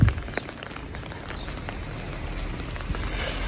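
Heavy rain pouring onto a surface, a dense continuous patter of close drops with occasional louder splashes, steady throughout and free of any voices.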